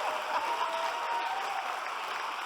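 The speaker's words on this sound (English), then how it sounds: "another round of applause for Beryl" Steady applause from a live audience honouring a guest at an onstage food-memories event, a continuous even patter of many hands at moderate distance.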